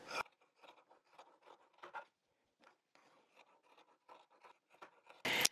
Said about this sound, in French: je vais découper tout ce qui dépasse